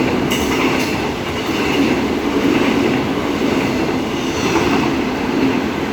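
EMU 68 electric passenger train with EMU 54 coupled behind, six cars passing through a station platform at speed: a loud, steady rolling roar of wheels on rail held close throughout, with faint clatter and no voices.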